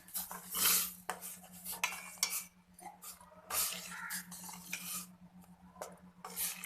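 Boiled vermicelli being stirred into boiling milk in a pot, with a spoon clinking and scraping against the metal in irregular bursts over a steady low hum, no voices.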